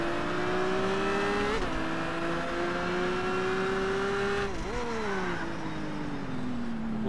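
A car engine revving in the racing game Test Drive Unlimited, a loud continuous drone that climbs steadily in pitch, drops sharply at two gear shifts, then climbs again.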